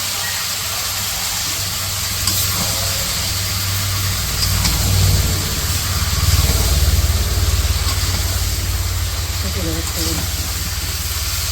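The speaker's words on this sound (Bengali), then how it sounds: "মশলা কষানো শেষ, সবজিগুলো দিতেছে।" Vegetables are added to fried ginger-garlic spice paste in a village kitchen, and a loud, steady hiss of sizzling frying fills the scene with little change throughout.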